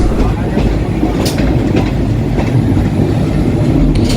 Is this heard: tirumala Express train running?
yes